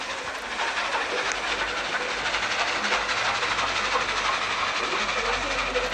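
A train rumbles along the tracks in the Roblox game Dead Rails, a steady loud clatter with hissing and rolling noise that carries on unbroken for several seconds.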